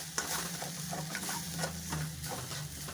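Salted mashed potato filling for vada pav being stirred and mixed in a pan, with steady scraping and a soft sizzle throughout, close and moderately loud with no talking.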